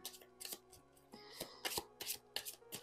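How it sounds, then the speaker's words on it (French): Oracle cards shuffle in short rapid riffles and slaps, close and fairly quiet, a few quick bursts in succession with no talking. "Je mélange d'abord les cartes."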